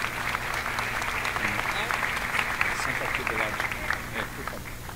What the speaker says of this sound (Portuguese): Seja bem-vindo, uma salva de palmas.